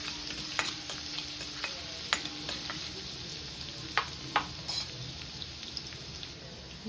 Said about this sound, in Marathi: लसूण छान आपल्याला गुलाबी व्हायला द्यायचं